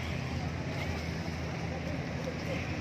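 Boat engines rumble low on the Chao Phraya River, where express boats, long-tail boats and ferries pass, with a steady drone under wind and water noise.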